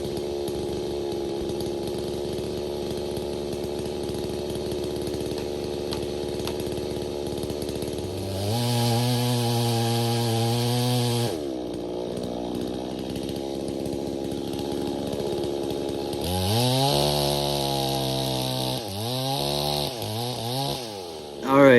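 A chainsaw cutting into a big dead tree during felling, its engine idling and then revving hard into the wood, with loud, sustained cuts and several quick rev-ups and drops toward the end.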